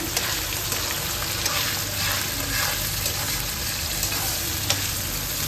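Onions sizzle in a hot pan alongside green chillies for a fish curry. The frying is loud and continuous, with stirring scrapes throughout and no talk.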